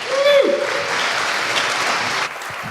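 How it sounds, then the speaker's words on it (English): A conference audience applauds as speakers on RFID security are welcomed, a broad, steady wash of clapping filling the room, with a brief tonal whoop or cheer near the start before the applause eases slightly toward the end. "welcome them with a warm round of applause"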